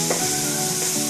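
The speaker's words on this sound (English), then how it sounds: "then you add the chopped onion." Chopped onion hits hot oil and butter with cumin seeds in a pan and sizzles loudly and continuously, a steady close frying hiss with no pauses.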